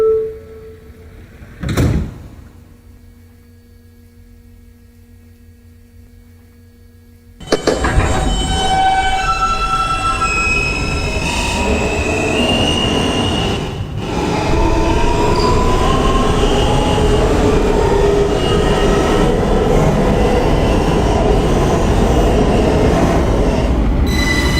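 A New York subway N local train, an R160, running underground: quiet at first with a brief thump, then a loud steady rumble of wheels and motors with squealing tones as it travels.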